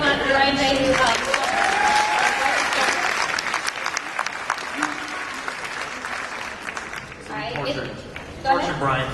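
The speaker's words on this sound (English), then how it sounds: "Stand up and everybody give a applause for Brian Fay who helped." A convention panel crowd applauds steadily, clapping building then thinning out toward the end, with a few voices and cheers mixed in.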